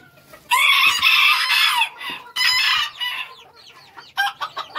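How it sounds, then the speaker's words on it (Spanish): A rooster crows loudly nearby, followed by a string of clucks and short calls from chickens, with no talking. "Aquí viene la pollada."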